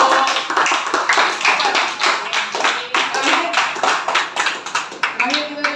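Applause for a group in a classroom, a burst of many hands clapping in quick irregular rhythm, fairly close and loud, with voices mixed in.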